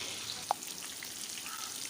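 Fish pieces for fish karahi fry in a pan with a soft, steady sizzle at low level, broken by a single brief pop.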